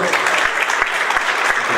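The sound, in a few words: audience applause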